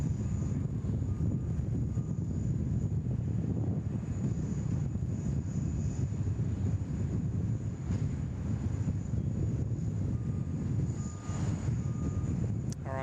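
An Airbus A380 departs Sydney Airport bound for Hong Kong, a faint, distant engine rumble blended with wind buffeting the microphone, holding steady and low for the whole stretch without talk.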